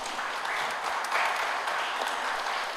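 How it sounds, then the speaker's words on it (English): A brief burst of steady crowd applause for the panelists at a live panel event, dense, even and moderately close, with no voices over it. "Can we give them a round of applause?"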